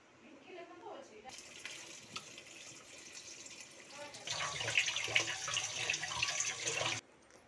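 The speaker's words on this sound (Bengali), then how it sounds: "ভালোভাবে আমি শাকটাকে ধুয়ে নেব।" Red amaranth leaves are washed in water, with splashing and swishing close by that grows fuller in the second half, then stops abruptly near the end; no speech is evident.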